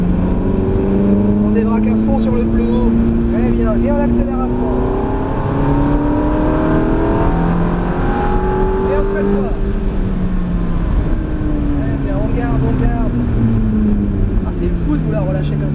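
A Ferrari F430 F1 accelerates hard on the Mérignac race circuit, its engine note climbing in rising harmonic sweeps that continue through the clip, loud and close from inside the car, with talk over the top.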